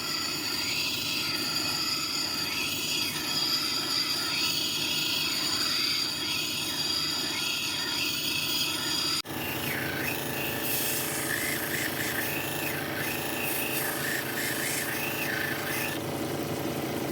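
A Kingsley North cabbing machine polishing a small agatized coral geode gives a steady, loud grinding and rasping whir. It runs continuously with no voices, and a brief break partway through shifts the tone.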